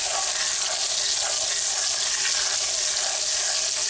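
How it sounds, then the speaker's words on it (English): Minced garlic with a little salt frying in melted butter in a hot cast iron pan gives a steady, bright sizzle that stays loud and even throughout, with no voices. "We only have to fry the garlic for about 30 seconds because we don't want it to burn"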